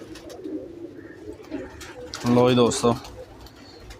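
Lakwe-breed pigeons give a short burst of cooing near the end, loud and close, after a voice speaks over faint background noise.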